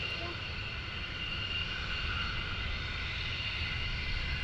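Military jets taxi along the runway at RAF Lakenheath during a morning surge launch, a steady broadband engine roar and high whine holding evenly from a moderate distance, with no voices over it.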